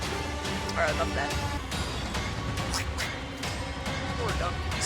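A duck in the horror video game Dark Deception quacks repeatedly through the sewer level, with the calls scattered over game music and effects while a player talks over them.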